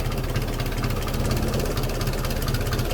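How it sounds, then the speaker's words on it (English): An engine idles just after a cold start without choke, a steady loud rumbling drone with a regular low pulsing knock that holds evenly from start to finish. "Cold start, and she just revs to life."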